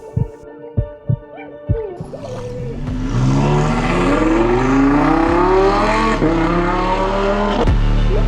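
Audi R8 GT sports car at a car event, a few sharp throttle blips followed by a loud, sustained engine roar with rising revs close by.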